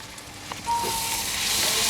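Garlic, ginger and cumin paste dropped into a hot pan for a fish and eggplant curry, bursting into a sudden loud sizzle that holds as a steady bright hiss.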